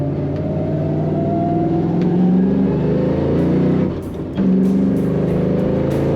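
A 1995 Ford Mustang GT coupe with a manual clutch pulls hard from inside the car, its engine a loud, steady rumbling drone that rises in pitch, with a brief dip partway through as if shifting.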